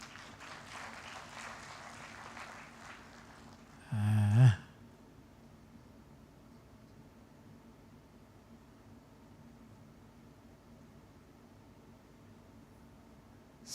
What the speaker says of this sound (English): So, the modulator, Esther, let me request people to clap for you.